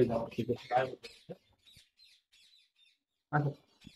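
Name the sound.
lovebirds chirping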